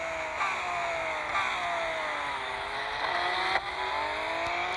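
Sustained race car engine roar from a video game, steady high-pitched revving with rising and falling gear pitch sweeps as the car runs flat out, chasing a red Porsche ahead; loud and continuous with no talk.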